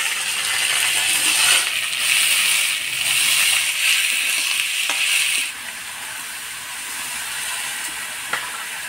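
Bottle gourd pieces fry and hiss in hot oil tempered with whole cumin, dried chili and ginger paste, a broad steady sizzle that eases after a few seconds, with occasional scraping clicks of stirring, close up.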